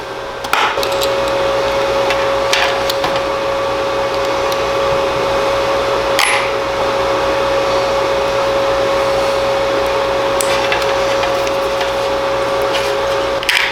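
A Dremel rotary tool grinds down a pelican's toe, giving a steady, loud high-pitched whine that runs throughout with a constant tone, close up, with no talking.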